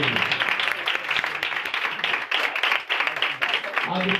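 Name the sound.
congregation applauding loudly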